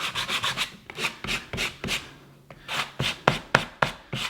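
Sandpaper rubbed by hand along the grain of a wooden supercharger part, gentle pressure, making a steady series of close, dry rasping strokes in a regular back-and-forth rhythm with a short pause midway, no talking.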